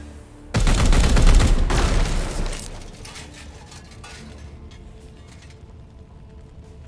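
Shooting in Warhammer 40k: Chaos Gate Daemonhunters, sounding as a sudden loud volley of rapid shots with metallic clinks that fades into lingering rattling debris and a quieter tail.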